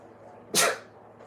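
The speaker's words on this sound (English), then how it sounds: "As you can tell, I had to sneeze." A single sharp human sneeze bursts out close to the microphone, brief and loud against quiet background hum.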